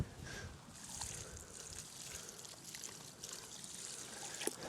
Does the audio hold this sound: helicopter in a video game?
no